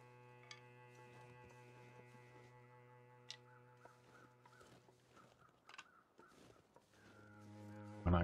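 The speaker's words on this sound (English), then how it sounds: "Hear crows ahead of us." Several crow caws ring out at intervals in The Long Dark video game over a steady low ambient hum, with faint footsteps and rustling, then a sudden loud burst near the end.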